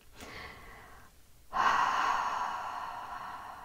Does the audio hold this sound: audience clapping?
no